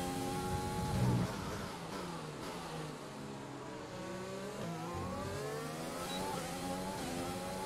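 Formula 1 car engine in the F1 2020 racing game at Bahrain, revving high and shifting through gears with a continuous sustained whine that rises and falls, heard alone.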